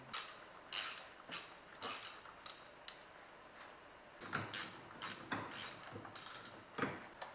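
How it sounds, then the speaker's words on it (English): A ratchet clicks quickly while T30 Torx bolts are removed from the engine cover of a Porsche Cayenne. Close, faint bursts of clicking come in short runs with brief pauses between them, with no talking. "So first thing to do is remove these bolts."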